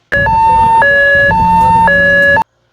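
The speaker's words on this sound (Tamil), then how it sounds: "இது தானம் செய்யப்பட்ட உடல் உறுப்புகளை சீக்கிரமாக கொண்டு செல்வதற்கு நம்ம இந்த ஹைலோ சைரனை யூஸ் பண்ணுறோம்" An ambulance hi-lo siren, used for rushing donated organs, alternates two steady tones in a regular two-step pattern, loud and close for about two seconds with nothing else heard.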